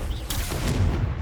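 Confringo blasting curse from Hogwarts Legacy going off in a short, deep booming blast with a rumbling low tail, loud and close, no voices over it.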